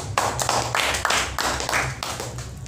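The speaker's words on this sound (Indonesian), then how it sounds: "Tepuk tangan." A crowd at a PPP party anniversary gathering claps, a close, loud run of rapid, uneven hand claps that rises and falls in quick waves with a low hum underneath.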